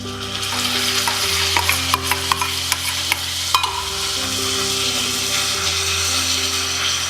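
Curd being stirred into chili kondattam kichadi in a pan, a series of close spoon clacks and scrapes over a low steady hum.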